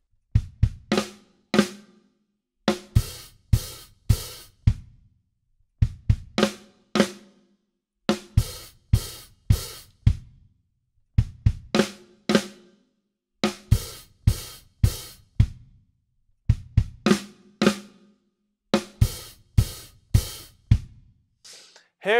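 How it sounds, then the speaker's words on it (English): An open hi-hat drum fill played on a kit with bass drum kicks, repeated several times in a steady pattern of punchy low thumps and sizzling cymbal bursts, close and clear without talk. "Put those two together and the fill sounds like this."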